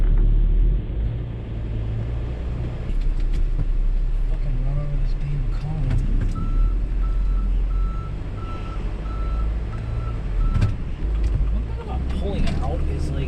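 A camper van rumbles low and steady as it pulls out and drives in traffic, with a faint repeated beeping tone partway through and occasional knocks and rattles over the engine drone.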